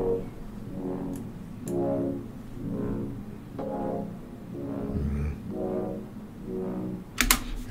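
An R&B beat slowed to half speed by a Halftime plugin, with steady, soft, rounded pulses repeating roughly every eight-tenths of a second over a low bed and a brief crisp hit near the end.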